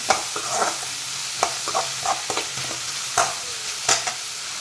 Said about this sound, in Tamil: வெங்காயத்தை வசக்கிட்டு இருக்கும்போது இப்படி கொஞ்சம் உப்பு போட்டோம்னா அந்த வெங்காயம் சீக்கிரமாக வசங்கிடும்.